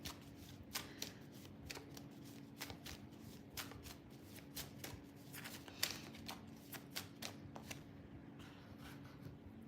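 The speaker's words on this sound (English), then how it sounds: "I'll pull an angel card for you too" A Doreen Virtue angel card deck is shuffled by hand, giving quiet, repeated papery riffles and soft slaps in an irregular rhythm, close by but faint, with no talking over it.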